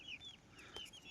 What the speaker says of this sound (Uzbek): O'sha ikkita oq xo'roz.